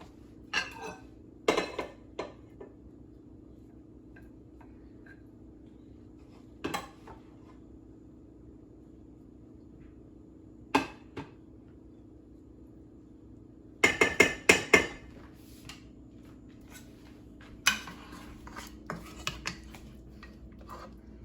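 Plates and cutlery clink and clatter in sparse, separate knocks while pork chops and rice are plated, close and moderately loud over a quiet kitchen hum, with a cluster of quick clinks near the middle.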